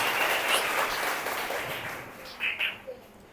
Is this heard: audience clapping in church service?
yes